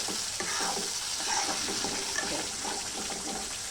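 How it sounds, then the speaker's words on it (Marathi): Masala for a fish curry fries in oil in a pan, a loud, continuous close-up sizzle that holds steady throughout. "बघा, आपला मसाला फ्राय झाला चांगला, त्याला चांगला तेल सुटले."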